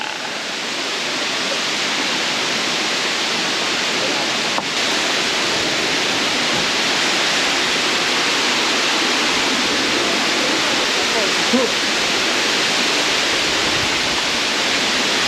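Constant, loud roar of Madakaripura Waterfall in East Java, a dense wall of rushing water without pause or voices.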